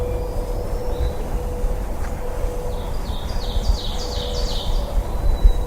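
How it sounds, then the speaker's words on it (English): An ovenbird sings in Maine woods, its rising series of bright repeated phrases building over a few seconds at moderate distance against steady broadband background noise and a faint low hum. "Here's the oven bird from yesterday, same exact place he was before."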